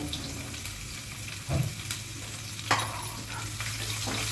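Chopped onion with spring onion frying in a pan for fried rice, a steady hissing sizzle broken by a couple of sharp utensil knocks and scrapes against the pan.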